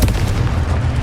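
A Confringo blasting spell explodes in Hogwarts Legacy, a loud, close, booming burst that fills the whole second with dense low rumble and no speech.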